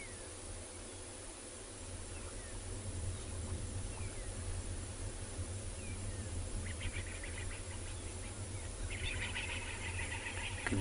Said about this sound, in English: You can hear some birds making a noise in the distance, probably spooked by something.